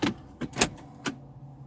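Automatic parking brake of a 2020 Toyota Corolla Hybrid engaging as the shifter goes back into park, heard as a few close, distinct clicks and clunks spaced unevenly over about a second.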